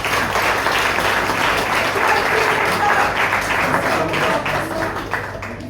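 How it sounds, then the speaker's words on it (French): Audience at a café slam night applauding a slam poet, loud sustained clapping from a crowd with some voices mixed in, easing off slightly toward the close. "On applaudit très très fort pour Christopher Baye"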